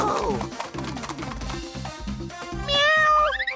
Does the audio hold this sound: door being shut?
no